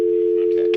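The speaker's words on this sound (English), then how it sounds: "I turn my phone on." A phone powers on with a steady electronic tone held throughout, with a brief brighter blip near the end.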